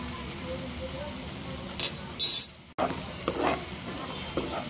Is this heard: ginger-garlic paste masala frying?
yes